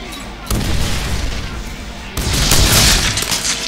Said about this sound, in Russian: Они получают урон и взрываются, что ли?